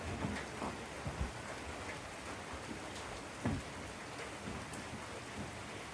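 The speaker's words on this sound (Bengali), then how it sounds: "সারা রাত তিস্তায় বৃষ্টি হয়েছে, আজ সকালেও বৃষ্টি চলছে।" Steady rain falls around an old house balcony on a wet morning by the Teesta, a dense continuous patter close by with a few heavier drips and a low distant rumble.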